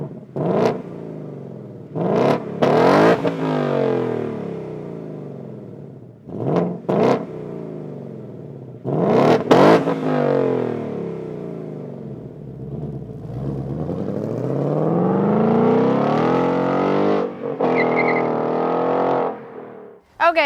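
A 2018 Ford Mustang GT V8 with active exhaust in sport mode revs repeatedly, loud close bursts of throttle blips followed by a longer sustained rising and falling rev, with no talking.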